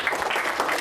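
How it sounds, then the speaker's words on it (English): A classroom of students applauds their teacher, honored as Teacher of the Week, in a brief, steady burst of clapping close by with no talk. "Give her a big round of applause,"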